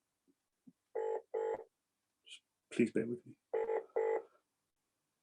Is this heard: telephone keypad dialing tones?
yes